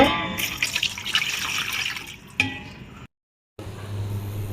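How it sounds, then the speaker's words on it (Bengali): Water splashes and gurgles as it is poured into a bowl set on the stove for making ginger and tulsi tea, close and fairly loud, ending abruptly in a short silence before a low hum. "পরিমাণ মতো পানি দিয়ে দিব"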